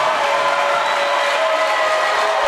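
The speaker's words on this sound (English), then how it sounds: "a loud cheer from the crowd will pretty much indicate that the Pacers are going to take this one home" Crowd in a college men's basketball gym cheering and applauding, a sustained loud roar of clapping and voices at an even level throughout.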